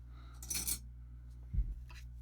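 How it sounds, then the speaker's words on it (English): A small watch battery drops inside a Bulova Lunar Pilot case with two quick light metallic clinks, the first a bright tick and the second a duller tap moments later, close and quiet over a steady low hum. "Just move this lever here out of the way with the screwdriver, and then the battery fell down in there"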